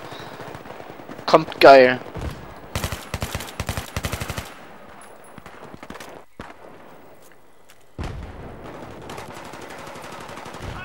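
Gunfire in Battlefield 3: a loud shotgun-like blast, then rapid bursts of automatic fire, a pause, and a later distant shot with rumbling aftermath, a player's voice briefly heard.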